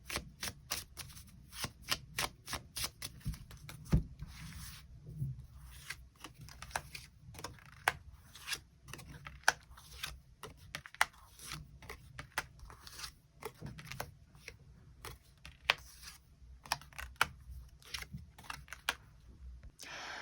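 Tarot cards being shuffled and drawn during a weekly reading, heard as a close run of quick, crisp snaps and riffles with irregular rhythm, alone without any talk.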